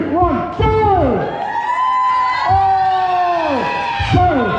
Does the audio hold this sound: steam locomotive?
no